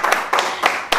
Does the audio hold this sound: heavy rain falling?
no